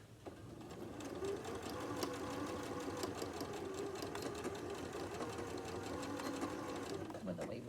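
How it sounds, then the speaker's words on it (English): A sewing machine stitches the end of a fabric tote bag, a steady rapid mechanical whir with fine rhythmic ticking that runs nearly the whole time, close and even, with a person talking over it. "I'm going to make sure my needle is down in the fabric, lift it up, and sew this end shut"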